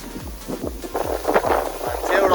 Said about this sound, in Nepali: कस्तो हावा लागेको छ